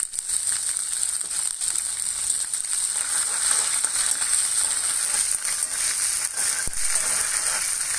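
Ginger frying in hot oil for a thick Kerala fish curry after curry leaves, producing a steady, bright crackling sizzle close up with a few small pops and no talking.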